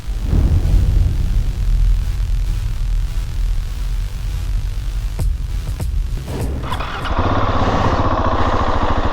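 A KTM 690 SMC-R supermoto runs close and loud, its single-cylinder engine roaring continuously with a brief dip in the middle before it revs up hard again toward the end.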